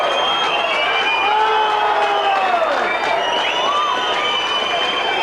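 A large outdoor crowd roars and cheers continuously after a goal at a 1986 Whyalla football grand final between Roopena and Central, loud and sustained with whoops and shouts throughout.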